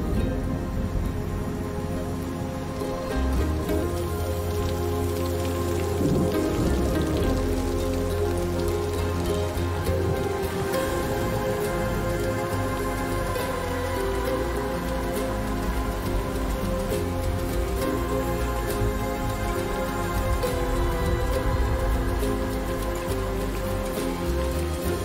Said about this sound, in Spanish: La larga sequía, por fin han vuelto las lluvias